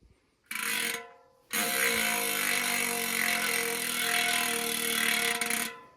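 Freehub ratchet on a Yoeleo Pro NXT SL2 bicycle wheel spinning freely: a brief buzzing burst, a short pause, then a long, steady, close whirring click that fades out at the end.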